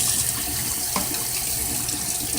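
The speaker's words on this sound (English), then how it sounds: "washing that knife heavily" Tap water runs steadily into a sink as a knife is washed under it, a continuous close splashing hiss with a brief knock partway through.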